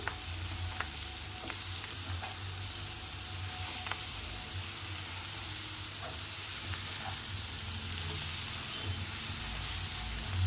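Gongura leaves stirred into chicken sizzling in a pan: a continuous loud frying hiss punctuated by scattered soft scrapes and taps of the spoon, with a low hum beneath.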